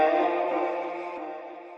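A sustained vocal sample from the verse of a song rings out alone, a steady pitched tone that fades slowly over about two seconds.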